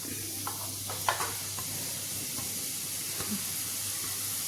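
Grated beetroot sautéing in ghee in a pan gives a steady, soft sizzle and hiss, with a few light stirring scrapes standing out near the start and around the third second.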